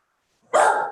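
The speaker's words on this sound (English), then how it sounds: "Whose dog is that?" A dog gives a single short, sharp bark, fairly close, after a moment of near silence at a promotion ceremony gathering.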